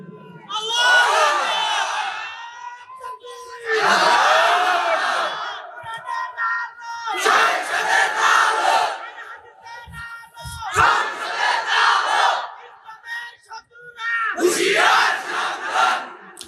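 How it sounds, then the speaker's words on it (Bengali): A large crowd at an Islamic sermon gathering roars a takbir chant in five loud unison bursts, each a couple of seconds long, separated by brief pauses with scattered voices. "একজন যুবক দাঁড়িয়ে তাকবীর দাও, সব ঠিক হয়ে যাবে।"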